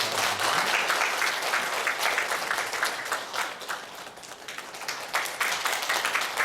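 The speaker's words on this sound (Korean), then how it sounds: "박수 부탁드립니다." A church congregation applauds during a Sunday service in Seoul, a steady, dense wash of many hands clapping that continues evenly throughout, with a slight dip in intensity midway.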